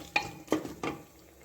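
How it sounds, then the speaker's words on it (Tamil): Ginger garlic paste being sautéed in a pan for tomato rice: three quick stirring scrapes in succession, each with a short burst of sizzle, then a quieter fade. "அது கூட இஞ்சி பூண்டு பேஸ்ட்டு இதை சேர்த்து நல்லா இதை வதக்கிக்கணும்."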